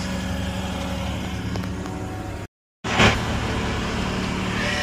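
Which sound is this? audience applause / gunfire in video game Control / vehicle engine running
vehicle engine running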